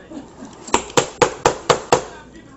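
Six evenly spaced sharp knocks from a toy hammer banging at a child's birthday party, close and fairly loud, following a short quiet lead-in with faint background voices.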